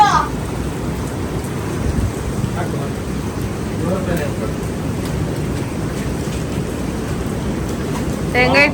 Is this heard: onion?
no